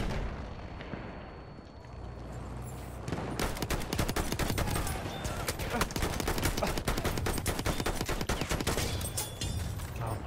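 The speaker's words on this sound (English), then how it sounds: "getting shot from behind us" A heavy, sustained fusillade of rifle and machine-gun fire crackles in Battlefield 1, beginning after a quieter stretch and rattling on loudly with rapid overlapping shots and distant booms.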